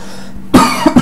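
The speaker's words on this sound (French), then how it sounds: "Et tonton il tousse." A man coughs close to the microphone, three sharp coughs, the first strongest and the last two quickly following, with silence before them.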